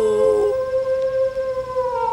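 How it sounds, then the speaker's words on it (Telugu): A jackal lets out a long, sustained howl that wavers slightly in pitch and carries steadily on its own. "దూరంగా ఒక నక్క"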